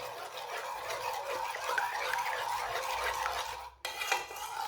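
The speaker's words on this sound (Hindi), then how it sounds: "अब 1 अंडा डाल लेंगे, 1 चम्मच ऑयल डाल लेंगे, इसे भी साथ ही मिक्स कर लेते हैं" Egg and a spoonful of oil being stirred into a wheat-flour mixture in a bowl, a steady close scraping and clinking of utensil against the dish running continuously with a brief pause near the end.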